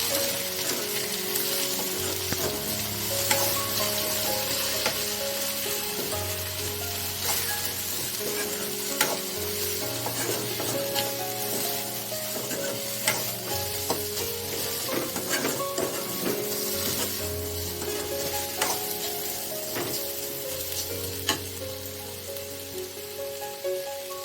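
Potato aloo fry with Kashmiri chilli powder sizzles steadily in a pan while being stirred, with a continuous frying hiss broken by the scrape and clink of a spoon against the pan. No one speaks.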